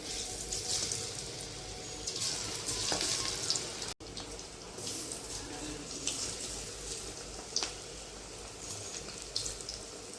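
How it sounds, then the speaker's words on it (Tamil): Ivy gourd (kovaikkai) fries in a pan with a steady, fairly loud sizzle and crackle, a brief cut partway through, and faint stirring scrapes on top. "மீதம் இருக்கதை ஃப்ரை பண்ணி எடுத்துக்கலாம்"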